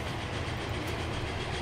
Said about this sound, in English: He was a big train.